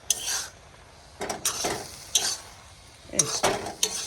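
Taro leaves frying in a pan are stirred with a utensil, giving repeated scraping, clattering strokes over a steady soft sizzle, close by with no talking.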